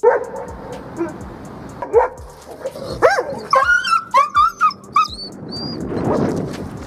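Several dogs bark and yip in quick, loud bursts at a cat, the barks clustering into a rapid volley midway before fading into background noise.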